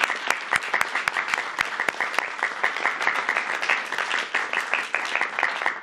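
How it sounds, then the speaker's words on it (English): A crowd at a school-choice event with students and education leaders breaks into loud, dense applause, a steady wash of clapping that holds for several seconds without any voices. "Give yourselves a round of applause."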